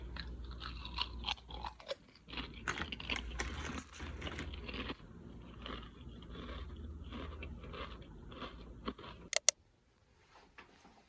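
Someone chewing and crunching food while hungry, with close, irregular bites and mouth sounds running steadily for about nine seconds, then a couple of sharp clicks before near silence.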